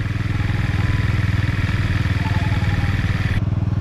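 Fast, even, chugging putter of a small 50cc GY6 scooter engine fitted with a larger carburetor jet, running steadily close by with a rattly clatter, then a brief shift in tone near the end.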